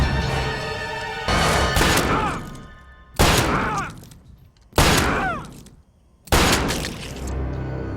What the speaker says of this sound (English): He just wasted 5 bullets on the Chucky he personally sent in.